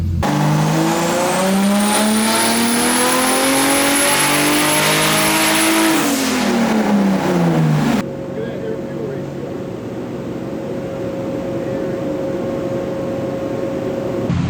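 A forged turbocharged M50 engine in a BMW E30 climbs steadily in pitch under load on a dyno for about six seconds, then cuts off abruptly to a much quieter steady hum.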